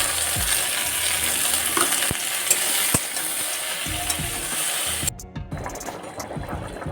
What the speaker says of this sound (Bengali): একটু পাঁচ ফোড়ন দিয়েছি আর তারপর বসিয়ে দিলাম এদের মাছের ঝোলটা।